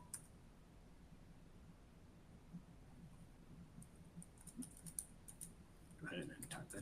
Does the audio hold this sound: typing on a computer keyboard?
yes